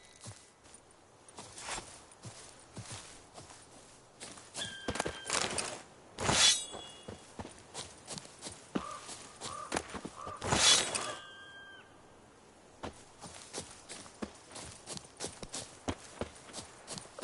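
Geralt's horse Roach gallops in The Witcher 3 on PS5, with quick irregular hoof clatter throughout and two loud sharp crashing bursts breaking through the game sound.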